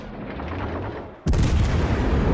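Main battery guns of the cruiser Riga firing in World of Warships: Legends, a rumbling ambient bed broken by a sudden loud salvo blast that rolls on as sustained booming.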